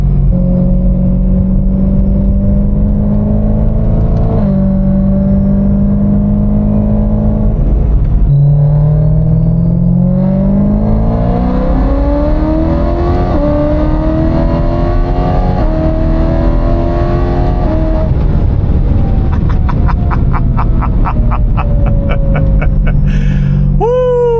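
Supercharged BMW S65 V8 in a 135 (1M clone) revving hard, with rising and falling harmonic sweeps through repeated throttle blips, loud and close, no talk.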